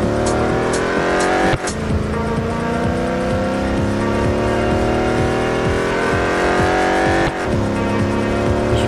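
A race car engine in the Real Racing 3 video game revs loud and continuous as it accelerates, with the pitch climbing, a brief tire squeal and a shift break midway.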